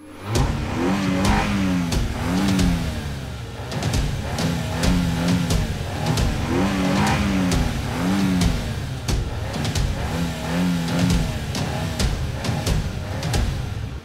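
Race car engines rev and accelerate in a video game race, rising and falling in repeated whining pulses. The sound is loud and close, and no speech can be heard.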